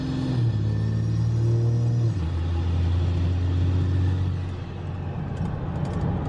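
A swapped 5.7 HEMI engine with boost running at three-quarter throttle, giving a loud, steady droning roar whose pitch drops in steps as it pulls, then settles into a rougher rumble.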